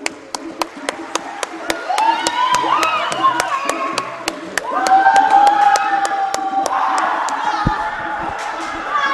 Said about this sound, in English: Let's clap for this performance one more time.